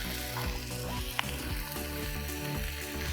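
Chopped tomatoes sizzle in a hot pan with a steady, moderate frying hiss and a brief clink partway through, over a low background hum.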